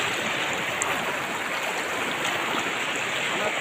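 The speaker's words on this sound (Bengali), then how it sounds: "জলের স্রোত দেখো" A stream's flowing current gives a steady, close, continuous rush of water with no pauses and no voices.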